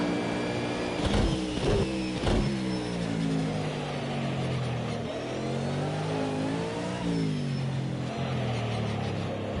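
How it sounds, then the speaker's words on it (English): Race car engine in Project CARS 2 powering out in second gear, a loud rising whine climbing through the revs with a couple of sharp shifts or blips and steady engine tone throughout. "Actually powering out in second there for a change rather than short shifting."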